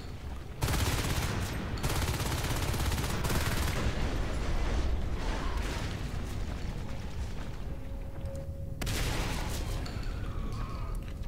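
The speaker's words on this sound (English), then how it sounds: "These shotguns helping for sure." Shotgun fire in a competitive real-time strategy game match plays as a dense, continuous barrage of loud blasts and crackling impacts, broken by a brief pause and then resuming.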